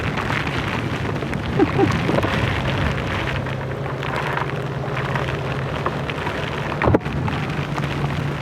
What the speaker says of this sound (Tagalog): Lakas ng hangin, lakas ng ulan.